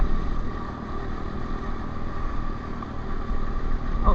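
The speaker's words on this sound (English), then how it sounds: "this little CRF holds up pretty well, considering the fact that it's a 4-stroke, no radiator," A Honda CRF125F four-stroke dirt bike without a radiator drones steadily while riding along a canal, a continuous close engine note at moderate level.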